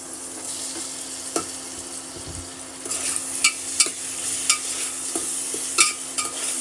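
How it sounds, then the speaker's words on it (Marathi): Peas and tomato frying in a pan, a steady close sizzle with a spoon scraping and stirring at intervals, sharper clinks of the utensil against the pan in the second half, no voices. "टोमॅटोला पण थोडंसं फ्राय करून घ्यायचं आहे 1-2 वेळेस"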